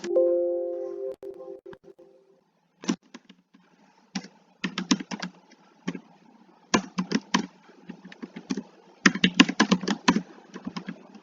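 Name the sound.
typing on a computer keyboard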